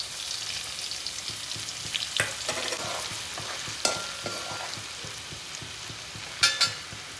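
Garlic sizzles in a hot pan with a steady crackling fry, stirred with soft repeated scrapes and a few sharper clatters of the utensil against the pan.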